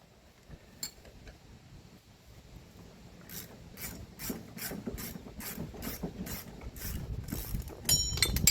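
Ratcheting wrench turning out bolts from the front wheel bearing assembly of an 1987 C4 Corvette, a series of short metallic clicks and scraping mechanical rubs building in loudness, close up with no talking.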